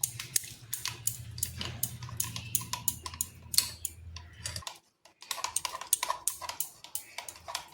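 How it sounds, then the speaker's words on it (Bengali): Eggs are beaten in a bowl for egg momos, a quick irregular clicking of the whisk against the bowl close up, with a short pause midway. "এবার ডিমগুলোকে ভালোভাবে এইভাবে ফেটিয়ে নিচ্ছি।"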